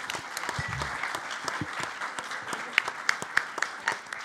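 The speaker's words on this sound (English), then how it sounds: "I think we can all give an applause for that." Audience applause at a talk on a future without waste, a steady patter of many hands with a few sharper, closer claps standing out toward the end.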